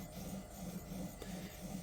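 A chisel is sharpened with steady back-and-forth strokes, producing a faint, soft rasping rub that repeats in an even rhythm throughout.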